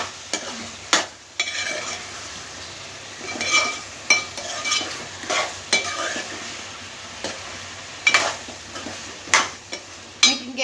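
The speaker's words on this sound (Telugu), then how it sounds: "దీంట్లోనే ఉల్లిపాయల్లో ఫ్రై అయితే చికెను స్మెల్ అనేది రాదు. ఇలా ఫ్రై చేసుకోవాలి మంచిగా." Chicken fries with onions in a pan, with a soft sizzle under repeated scrapes and clinks from a stirring utensil, coming in irregular bursts.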